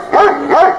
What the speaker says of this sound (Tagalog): Kaya tumatahol yung aso dahil andun ako sa labas